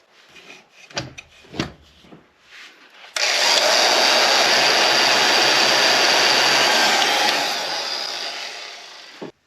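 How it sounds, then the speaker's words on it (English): A heat tool shrinking tubing blasts on with a loud, steady airy roar after a few seconds of quiet handling clicks, then eases slightly toward the end. "Now we're going to shrink this tubing down."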